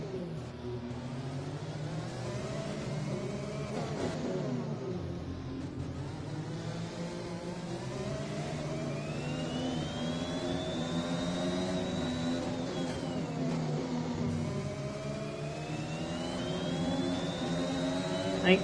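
A Formula 1 car in F1 2021 pulls out of the pits at the Marina Bay circuit in Singapore, its engine whining and rising through the gears with repeated upshifts, moderately distant and steady, with faint crowd and ambient noise beneath.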